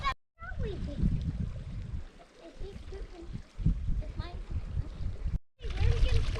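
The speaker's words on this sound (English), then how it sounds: "Got a little set of cascades here." Water runs over a small set of rocky cascades in the Wichita Mountains, a soft trickling splash that carries under a man's speech. It breaks off briefly near the end.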